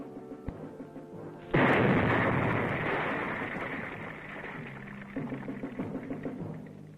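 A land mine detonates in a 1967 military training film about Viet Cong mines and booby traps, one sudden heavy blast that rolls off into a long fading rumble, loud and close, followed by lower residual noise.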